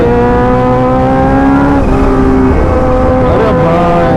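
A Kawasaki Ninja motorcycle's engine roars loudly and steadily at close range, its pitch shifting slightly as the revs change, with no voices over it.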